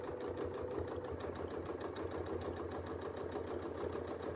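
Sewing machine running a quick test stitch with a small needle and very fine silk thread for quilting microfills, a steady rapid mechanical whir with even pulsing rhythm, close and continuous with no talk.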